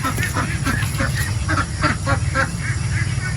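Domestic ducks on a Filipino farm quacking repeatedly, several birds calling close by in overlapping bursts over a low steady background hum.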